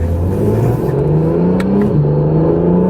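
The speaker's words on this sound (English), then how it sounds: "Here you got a twin turbo V6" A 2017 Acura NSX's twin-turbo V6 hybrid engine revs up steadily with a rising, throaty drone, loud and close, with a faint whir on top and no talking.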